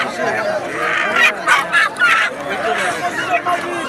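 Busy outdoor crowd noise at the Haraj market in Al-Kharj, with chickens of various breeds clucking and squawking in bursts, birds close by amid a steady hubbub of voices.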